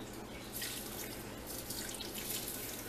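A soft, steady pour of soy sauce into a pot, trickling continuously at low volume with no talking.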